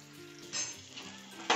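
Arbi leaf pakoras frying in oil on a tawa give a soft, steady sizzle with a brief louder crackle, close and alone without talk.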